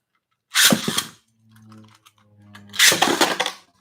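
A Beyblade Burst top is ripped hard from its launcher twice, each a loud, sharp burst of clattering noise with a quieter whirring stretch between them.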